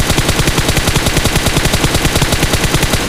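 Rapid automatic gunfire from a rifle in BGMI / PUBG, a loud, steady stream of close shots rattling without pause, with no voices.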